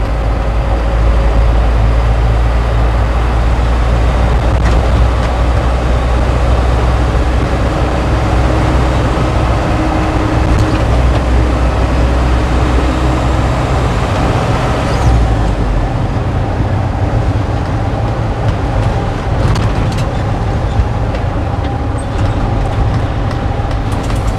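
An Isuzu NQR150 truck with a 5.5-metre body and air brakes is under way, its engine and road noise forming a loud, continuous roar with a deep low rumble for the whole stretch and no talk.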